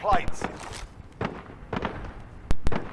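Scattered gunshots in Call of Duty Warzone come as sharp, separate cracks at irregular intervals. They sound somewhat distant, and a voice talks in between them.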